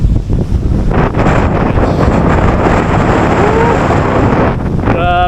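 Strong, cold wind buffeting the microphone outdoors in Pangasinan, Philippines, a loud continuous rumbling roar that never lets up, with a faint tonal whistle near the end.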